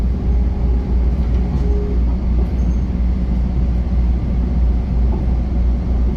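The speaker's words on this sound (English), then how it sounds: "I think that train was going to Long Island City" A Bombardier M7 commuter train on a Long Island Rail Road route rumbles steadily nearby, a loud continuous low roar with no voices.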